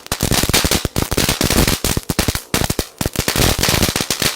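A string of firecrackers goes off at close range in a rapid, crackling volley of loud pops that runs without letup, with only a couple of brief gaps.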